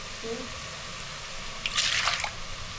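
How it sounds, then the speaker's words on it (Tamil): Water being poured into a pot of mutton curry, a short wet splashing burst in the middle under a background of room noise and faint voices. "உங்களுக்கு தேவையான அளவு தண்ணி விட்டுக்கோங்க."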